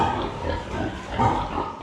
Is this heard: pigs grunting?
yes